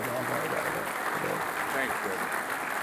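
Audience applause for Bob Foster at a mayors' and business leaders' breakfast, a dense, steady clatter of many hands filling the room throughout with a murmur of voices underneath.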